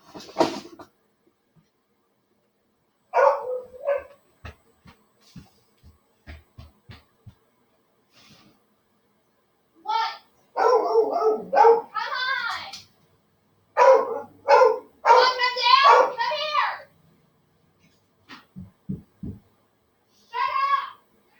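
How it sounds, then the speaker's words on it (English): A dog barks in scattered bursts indoors, short yips and barks repeating through the stretch with quieter gaps, fairly near, alone without talk. "Yes, that was my dog."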